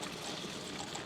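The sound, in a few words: river water flowing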